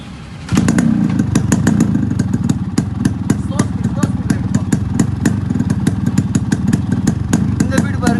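A Yamaha RX100 two-stroke motorcycle with a modified silencer starts its exhaust beat after a brief moment, then holds a loud, steady idle with rapid sharp popping pulses throughout.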